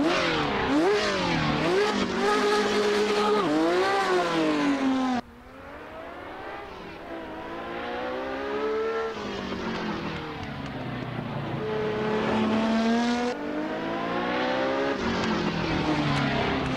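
Sports race car engines in the Assetto Corsa racing game at a Festival of Speed top-ten shootout, roaring and revving continuously with rising and falling pitch and gear changes, loud and close with no talking.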